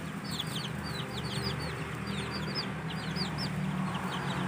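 Chickens clucking and squawking during a scuffle between a hen and a duck, quick high calls repeating throughout against a steady outdoor background hum.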